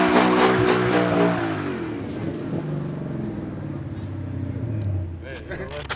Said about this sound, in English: You rev that bitch to 9K and you just dump the fucking clutch.